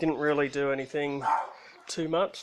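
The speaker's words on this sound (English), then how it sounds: "You can hear my dog barking in the background." A pet dog barks and yips in the background while someone talks steadily over it in the foreground, and the short barks slip between his phrases.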